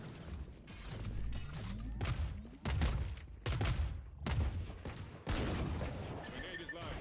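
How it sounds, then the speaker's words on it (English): Missiles launching in a tactical shooter video game, a series of loud whooshing bursts at roughly one-second intervals, with gunfire-like cracks and mechanical clatter under them, plus brief talk in the background. "All missiles away"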